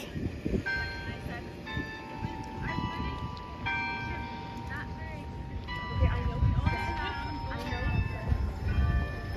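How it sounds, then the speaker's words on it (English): Bells ring and chime in sustained overlapping tones over steady background rumble, fairly faint and distant-sounding, at the University of Alabama around noon before a tornado siren test. "You hear the chimes?"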